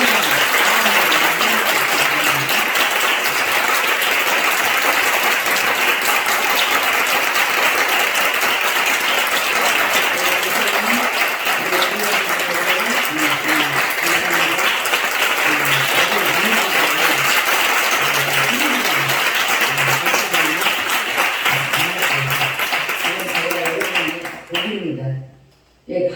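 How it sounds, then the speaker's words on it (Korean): Sustained applause from a church congregation during a Sunday worship service, dense and steady for about 24 seconds with voices mixed in, then fading out abruptly at the end. "우리 큰 박수로 지난주보다 더"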